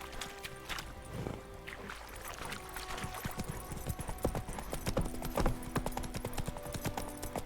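Roach, Geralt's horse in The Witcher 3, trots along with steady clip-clopping hooves, a close rhythmic patter set over a continuous game ambience of background noise.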